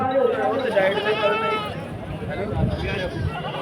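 At the Mullapur goat fair, a goat bleats with a wavering cry near the start while people talk loudly nearby amid crowd bustle.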